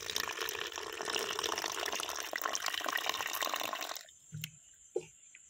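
Water poured from a container into a bowl of cornflour batter while cooking outdoors in a forest, a steady splashing stream for about four seconds that stops abruptly, followed by a couple of faint drips and knocks.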